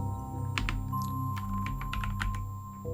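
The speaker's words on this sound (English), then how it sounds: "let's start typing some of these in" Someone types on a computer keyboard, with a series of close, light key clicks in irregular bursts over a steady low hum, and no talking.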